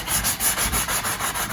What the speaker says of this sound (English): So now we have to do some basic sanding. So I use the sanding blocks,